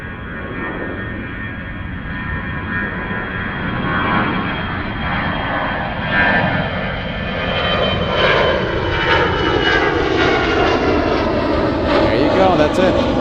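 An EasyJet airliner passing directly overhead at Zurich airport, a loud, close roar of jet engines with a slowly shifting whine as it goes by, and a voice talking over it.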